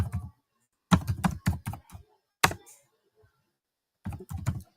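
Typing on a computer keyboard during an online SAP plant maintenance class, close clusters of rapid key clicks in short bursts separated by silent pauses.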